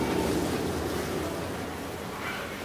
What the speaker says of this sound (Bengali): আমার এটাকে সুন্দর করে ঘিয়ের সাথে মিশায় মিশায় নেড়ে নেড়ে ভাজতে হবে